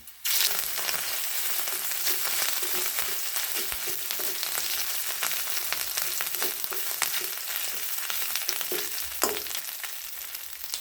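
Ginger-garlic paste frying in oil with lightly browned onions for a flat-bean seed dal, giving a steady close sizzle with scattered stirring scrapes and pops throughout, no talk.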